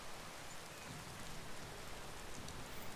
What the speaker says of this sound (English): And it's now raining.